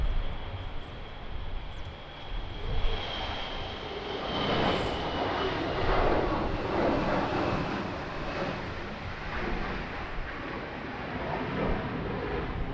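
A fixed-wing airliner lands at Lisbon Airport in a strong crosswind, its engines a broad, steady roar that holds throughout, with some wind buffeting at the microphone.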